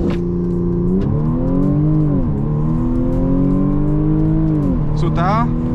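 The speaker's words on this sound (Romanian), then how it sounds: "a fost foarte bun launch-ul ăsta, n-a patinat absolut deloc" An Audi S5 Cabrio launching from a standstill on a wet surface under hard acceleration, the engine revving loudly and close with steady rising and falling pitch through gear changes, a brief shift near the end.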